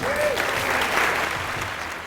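Wedding guests applauding during a best man speech, a sustained, even patter of many hands clapping in a reception room, fairly close and continuous, gently tapering toward the end.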